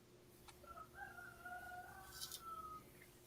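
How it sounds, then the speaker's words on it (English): A young black rooster crows once, thin and scratchy and far off, against a quiet background hum. "That sounds like a baby rooster's crow."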